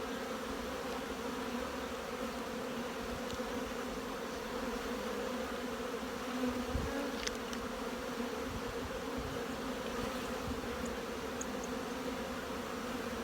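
Honeybees buzzing around an open hive during a nest inspection, a steady, close, droning hum that holds throughout with faint handling noises.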